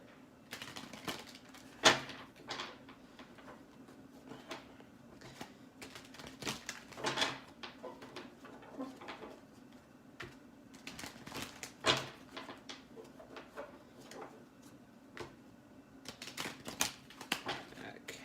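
A Rider-Waite tarot deck is shuffled by hand in a run of soft, quick card riffles and taps, close and fairly quiet, with a few louder slaps as the cards settle.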